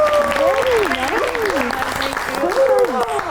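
Steady studio audience applause on a Pakistani comedy talk show, dense and continuous throughout, with a music-like melodic line running over the clapping.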